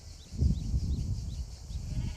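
Goats and sheep on a hillside, a low murmur of bleats carried from a distance, uneven and overlapping, with a few louder calls near the start.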